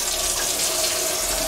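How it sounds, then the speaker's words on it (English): Water from an opened tap rushes in a steady, loud, close stream for a brief moment, with no voices. "let me turn this water on"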